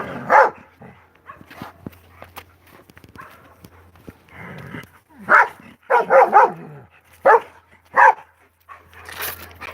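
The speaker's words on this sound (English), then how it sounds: "Good dog." Dog named Boomer barking during dog sitting, a handful of loud sharp bursts in clusters, with quieter rustling and movement between them.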